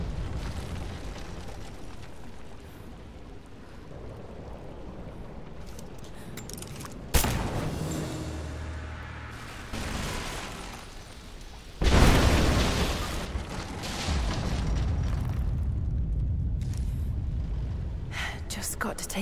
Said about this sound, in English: Looks like I'll have to use the Greek fire.